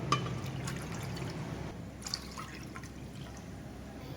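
Water is poured into a pan on the stove to make jelly, a steady close trickle and splash of liquid that thins and drips away over a few seconds, with no talking.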